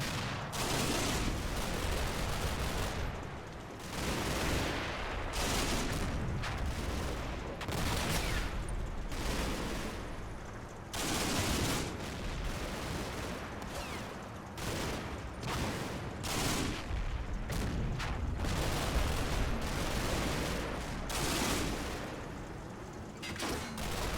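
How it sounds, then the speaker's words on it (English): In the Combat Mission video game, half-tracks pour out machine gun fire, a near-continuous crackle of rapid bursts and scattered heavier shots layered densely for the whole stretch. "the MG fire from the half tracks is comically inaccurate"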